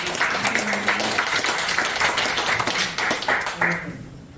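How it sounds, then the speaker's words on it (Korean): A church congregation at a Korean worship service held in a National Assembly basement room claps together for a deaconess and group organizer, a steady round of applause with brief voices mixed in before it fades out. "권사님 총무님 박수 한번 보내주십시오."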